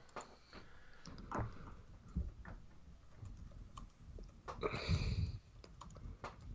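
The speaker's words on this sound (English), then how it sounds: "Why are you typing?" Keys clicking on a computer keyboard in a quiet room, an uneven run of light ticks and taps with a busier, louder burst near the end, no talking over it.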